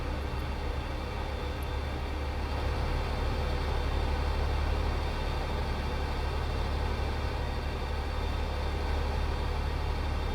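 A heavy truck drives along a road in the Euro Truck Simulator 2 game, giving a steady low engine drone and road rumble that holds evenly from start to finish with no voices.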